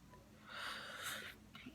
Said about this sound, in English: Patient sniffing catnip.